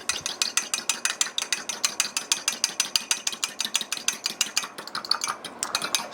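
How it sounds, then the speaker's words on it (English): Fork beating eggs in a bowl for a sweet potato casserole, a steady fast rhythm of light clicking strokes repeating evenly throughout, close and fairly quiet. "I'm going to take a fork. I'm going to mix that together."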